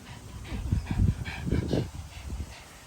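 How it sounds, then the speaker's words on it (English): Dog whimpering and giving soft barks indoors during a card-collecting session with family: a cluster of low, close whines and muffled yips across a few seconds, fairly quiet. "So the dog's over here with us today."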